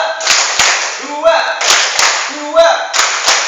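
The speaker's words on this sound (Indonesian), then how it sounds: "Tepuk dua di atas." A group of kindergarten-age children at a Quran school session claps in sharp pairs, two quick claps repeated in a steady rhythm, alternating with a chanting voice.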